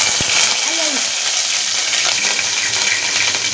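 Hot oil sizzling in a pan as a tempering starts for an egg masala, a steady loud hiss with a sharp metallic clink near the start and a few small splutters.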